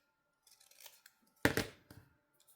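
A few quiet snips of scissors trimming paper, with one louder, sharper cut near the middle and softer clips around it.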